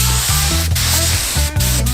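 A spray can hissing in a couple of long bursts while painting a belt on a Mazda Miata, close and steady, with brief pauses between sprays.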